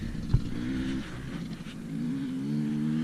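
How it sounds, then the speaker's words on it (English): Engines drone and rev nearby, rising and falling as motorcycles pass, with a low rumbling hum throughout. "See, you hear the motorcycles?"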